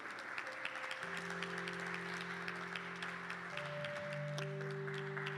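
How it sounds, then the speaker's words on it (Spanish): Church congregation applauding for Christ Jesus during a Spanish-language service, steady clapping throughout with sustained organ or keyboard tones held underneath. "Denle un fuerte aplauso a Cristo Jesús."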